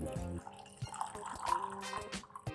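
Water is poured into a container to make sharbat, a short splashing and trickling pour with a few drips, close by.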